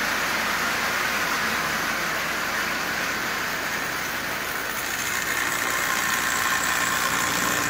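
A 1938 Marx Commodore Vanderbilt toy train with its original motor running, a steady whirring mechanical drone with a rattling edge that holds evenly throughout, close and fairly loud.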